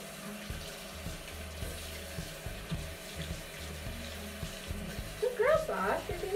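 A cat is rinsed under a running tap, water splashing and gurgling steadily in the sink, with a faint bright animal-like cry near the end.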